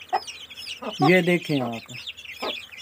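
Young pure black chicks, a brood of about twenty-two, cluck and peep up close in short, uneven calls while someone talks over them.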